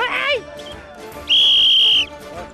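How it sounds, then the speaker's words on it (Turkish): A single loud, steady whistle blast lasting under a second, preceded by a short chirpy whistle, with background chatter around it. "Düdüğün sesini duyar duyar başlıyoruz."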